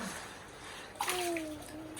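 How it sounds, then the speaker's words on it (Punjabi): Water pours and splashes steadily into a container, with a gurgling tone shifting as it fills. "ਡੋਲੀ ਜਾਂਦਾ ਪਾਣੀ ਡੋਲ ਨਾ"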